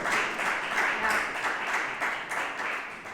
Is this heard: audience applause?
yes